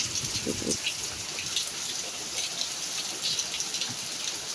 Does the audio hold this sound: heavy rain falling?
yes